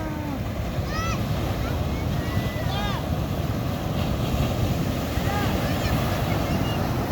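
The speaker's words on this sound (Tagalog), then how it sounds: "Pero malalaki pa rin ang alo, no?" Large ocean waves break and wash onto a shore where boats are being launched, a steady loud surf roar with wind buffeting the microphone, while people talk intermittently over it.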